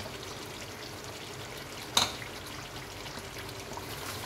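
Black pepper chicken karahi fries steadily in oil, a soft continuous sizzle with a single sharp clink or spatter near the middle, quiet and close with no talk.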